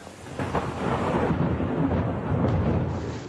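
Thunder from a storm over Brisbane rolls as a deep, continuous rumble with rain hiss, loud and steady throughout with no talking.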